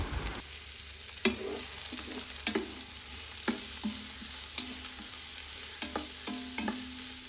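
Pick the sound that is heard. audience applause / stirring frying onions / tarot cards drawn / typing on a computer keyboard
stirring frying onions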